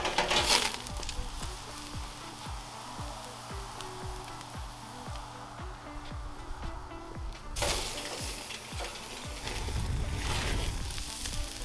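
A tomahawk steak sears on a propane grill with a steady sizzle and crackle, repeated sharp thuds and clunks in the first part, and a louder hiss swelling toward the end.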